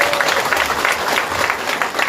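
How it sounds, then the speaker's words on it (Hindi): A crowd at a spiritual gathering claps steadily, a dense, continuous wash of applause that fills the space without pause. "अपने लिए ताली बजाकर धन्यवाद दे दो।"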